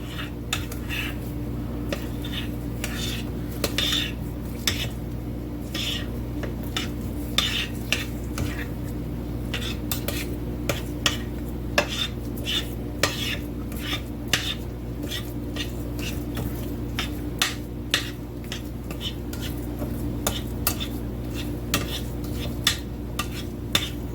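A butter knife scrapes and taps through coffee cake batter in a pan, giving a steady series of small clicks and scrapes with no talk over them.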